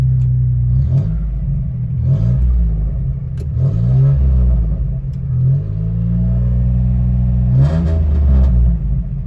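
A Geo Metro engine idles low and repeatedly revs up in short bursts, close and loud, with no talking.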